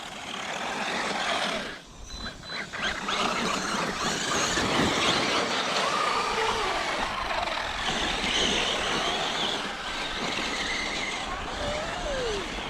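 Motor of a DB8 running on 4S packs over granite, a continuous loud whirring roar with gliding whine tones as it revs and eases, after a brief dip early on; faint voices are present.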